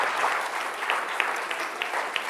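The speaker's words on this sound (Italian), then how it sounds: "vi chiedo un applauso adesso" A studio audience applauds during a live Italian regional sports broadcast, a steady wash of clapping with a few sharper individual claps standing out.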